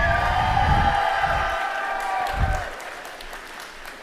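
Robotics competition teams in an arena applaud and cheer, a loud crowd roar of clapping mixed with whoops that gradually eases off over a few seconds, with voices in the mix.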